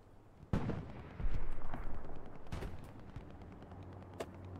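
Grenade blasts in a competitive Hell Let Loose World War II shooter match, two heavy booms about two seconds apart, each followed by a rumbling tail.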